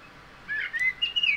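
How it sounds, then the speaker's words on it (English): Birds chirp in bright, whistled bursts across a sunny country estate in the fantasy game Blackguards, several quick calls close together and fairly loud. "Those birds are very loud."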